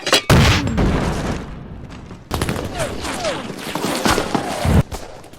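Artillery fires high-explosive rounds in a WWII battle scene from Band of Brothers: loud booming blasts and bursts of gunfire over dense battlefield noise, with a sharp break midway before the firing resumes.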